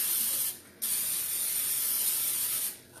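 Two bursts of butter spray hiss into a nonstick skillet, one long and steady, the other starting after a short pause, close and fairly loud with no talking.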